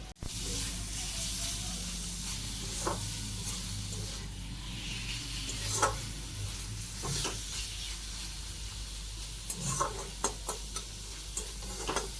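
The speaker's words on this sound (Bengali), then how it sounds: "টমেটো দিয়ে এখন ভালো করে এটাকে কষিয়ে নিচ্ছি" Curry of tomato with ginger-chili paste and slit green chilies being fried and stirred in a pan, a steady sizzle and hiss with occasional soft scraping clicks from the spoon throughout.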